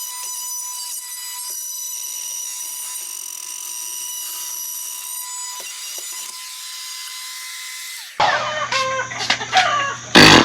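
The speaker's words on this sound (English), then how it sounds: "We're going to see if we can roto zip some of this plastic out of here" A Roto Zip fitted with a sheetrock bit cutting overhead plastic gives a high, steady whining drone that holds for about eight seconds, then stops abruptly, followed by clattering knocks and handling noises.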